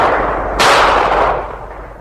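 A single loud gunshot in a Russian children's audio drama about a fox hunt, a sharp broadband crack about half a second in, trailing into a decaying rumble over steady background sound.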